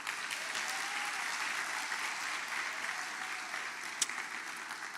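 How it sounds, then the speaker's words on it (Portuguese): A church congregation applauds a preacher, steady sustained clapping from a crowd filling the room at moderate volume, with one sharper clap standing out near the end. "Vamos aplaudir esse pregador."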